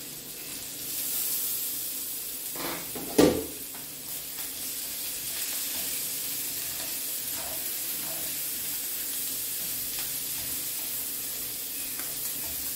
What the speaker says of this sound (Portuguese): Agora eu vou deixar fritar aqui.